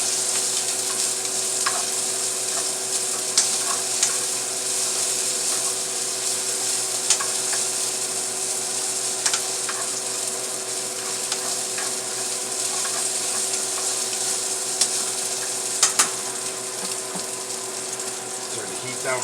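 Chopped white onions sizzle steadily in a hot pan, a dense bright crackle running throughout with occasional sharper pops and faint stirring clicks, close and constant, no talking.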